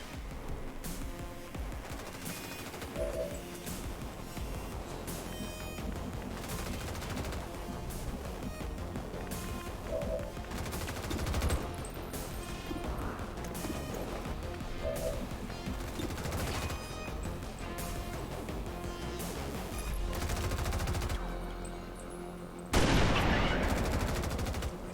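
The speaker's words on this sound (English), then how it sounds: "Taking heavy fire." Sustained heavy gunfire in the XCOM 2 battlefield, dense rapid bursts and volleys crackling almost continuously, with a louder blast near the end.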